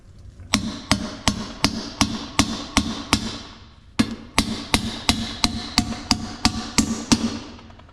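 Hammer blows drive a bearing race into a Nissan 350Z/370Z Nismo GT Pro differential during a rebuild: two runs of sharp metallic strikes, about eight and then eleven in a row at a steady quick rhythm, close and loud with no talk.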